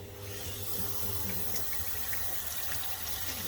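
Running water washing out a boiler central heating magnetic filter, a continuous close splashing hiss like a tap flowing into a sink, steady and fairly loud throughout.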